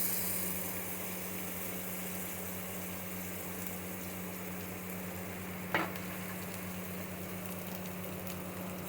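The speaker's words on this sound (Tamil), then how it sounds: "போட்டு நல்லா வதக்க போகிறோம்" Tomato paste from four tomatoes sautéing in oil in a pan for home-style chicken biryani, a steady, faint, even sizzle throughout, with one brief sharp tick of a utensil partway through.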